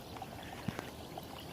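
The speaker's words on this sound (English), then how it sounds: "Begins to fizz, bubble." Alka-Seltzer tablet fizzing in water during a home science experiment, a faint soft hiss with a few tiny pops and bubble ticks, close and quiet.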